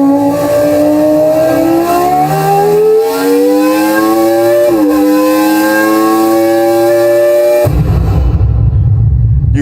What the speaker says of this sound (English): You hear the gears changing?